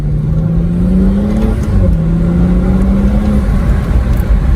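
A BMW F32 engine fitted with a budget aftermarket intake revs loudly up close, its tone climbing and dipping in a steady drone over a broad intake rush.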